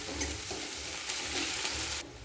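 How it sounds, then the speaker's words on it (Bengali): Chopped garlic and browned onion frying in hot oil, stirred in a pan while making spicy egg kochuri; a steady broadband sizzle with soft spoon scrapes, close and continuous, ending abruptly. "এরপর রসুন কুচি দিয়ে দিলাম। তেলের মধ্যে নাড়াচাড়া করে নেব।"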